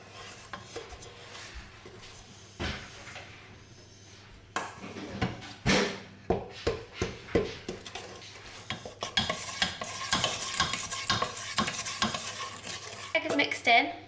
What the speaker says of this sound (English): And we're just going to give that a mix.